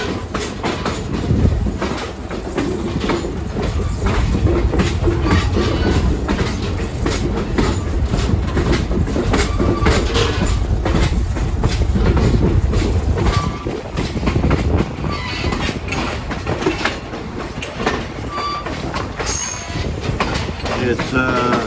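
The private railroad car Hollywood Beach rolls along the rails on an AAPRCO special train in Vermont, a loud continuous rumble with rapid clickety-clack of wheels over joints and occasional squeals throughout.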